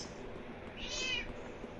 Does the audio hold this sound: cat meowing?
yes